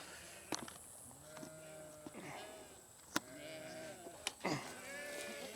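Sheep bleat repeatedly in a weedy pasture, several calls overlapping at close to moderate distance, with goats nearby and a few sharp knocks and handling noises between the cries.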